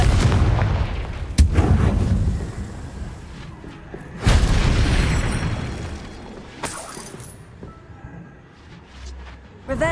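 Confringo fire spell blasts in Hogwarts Legacy, with three loud, sharp explosive booms spaced a few seconds apart. Each bursts suddenly and then rumbles away under a crackling, fiery tail.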